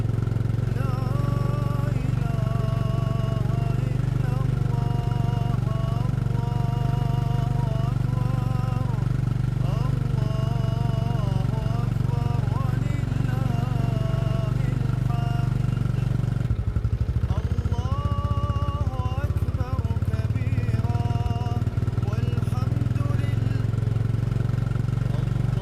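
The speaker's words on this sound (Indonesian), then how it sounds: "Habis tenaganya nih motor." A motorcycle on a Lebaran touring ride from Tangerang toward Bogor drones steadily with a low, constant engine rumble and road noise, while a rider talks over it now and then.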